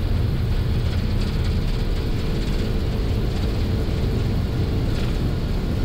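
Steady, loud roar of an Egyptair Airbus A330-200's jet engines during takeoff from Kuwait City, a dense low rumble that holds constant throughout with no talking.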